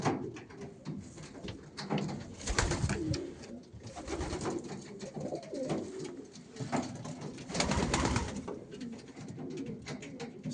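Racing pigeons cooing close by in repeated soft, throaty bursts, with scattered rustling and fluttering between the calls.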